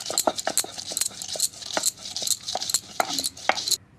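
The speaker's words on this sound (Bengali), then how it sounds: "এবার রসুনটা বেটে নেব।" Garlic ground into paste on a grinding stone for prawn paturi, a series of faint, uneven scraping and knocking strokes in a quick irregular rhythm, close by.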